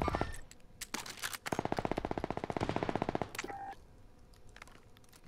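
Machine gun fire in a video game, with a few isolated shots and then a sustained rapid automatic burst of nearly two seconds, followed by quieter scattered shots and game sounds.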